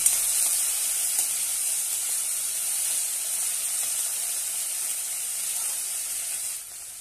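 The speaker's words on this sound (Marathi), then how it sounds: "आता यामध्ये एक टोमॅटो बारीक कट केलेला आहे तो घालूया। छानपैकी परतून घेऊया।" Finely chopped tomato sautéed in oil in a pan for a fenugreek and okra dish, giving a steady bright sizzle and hiss that holds evenly throughout and drops a little in the final moment.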